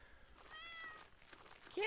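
A pet cat gives a soft, faint meow indoors, with a brief louder sound at the very end.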